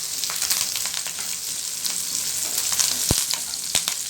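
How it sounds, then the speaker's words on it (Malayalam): Dried red chillies and curry leaves crackle and sizzle steadily in hot oil, close and loud, with scattered stirring scrapes and a couple of sharp metallic taps from a spoon against the pan. "ഇതെല്ലാം നന്നായി ഒന്ന് മിക്സ് ചെയ്ത് ഫ്രൈ ചെയ്യുക."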